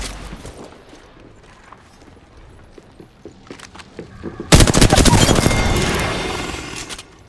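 Gunfire in the video game Apex Legends: light scattered shots first, then a sudden loud, dense burst of rapid automatic fire that holds for the last few seconds before tailing off.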